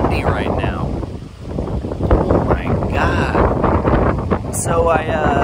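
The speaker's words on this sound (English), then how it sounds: "God, it's so windy right now." Strong wind buffets the microphone outdoors in a dense, roaring rumble that swells and dips, with a voice speaking over it.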